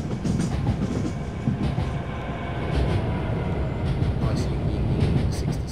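Pendolino train in the Open BVE train simulator on the Birmingham Cross City South route, a continuous rolling rumble of rail running with faint clatter, with someone talking over it.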